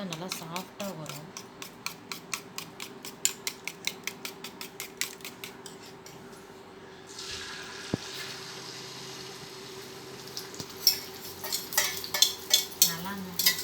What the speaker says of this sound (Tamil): நல்லா பீட் பண்ண தான் உங்களுக்கு முட்டை நல்லா சாஃப்டாக வரும்.